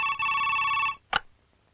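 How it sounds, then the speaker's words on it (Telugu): A telephone rings at home with two bright electronic trill bursts, the second ending abruptly, followed by a short knock-like thud and then quiet. "ఫోన్ తీయమ్మా"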